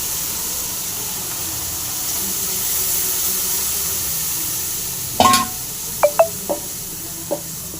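A neem flower chutney mixture with chillies frying in a pan, a steady soft sizzle and hiss throughout, with a few sharp spoon-scrape clicks of stirring near the end.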